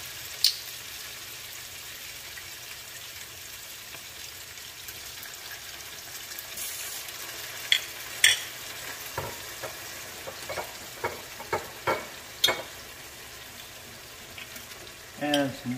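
Garlic and lemon juice frying in a pan, a steady soft sizzle with scattered clinks and stirring taps that grow busier toward the end.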